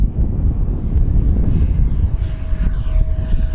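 An FMS Viper Jet 70mm electric ducted-fan RC model jet flies by, a loud steady rumbling roar with a rising whine that sweeps upward and then settles, heard close and continuous without talking.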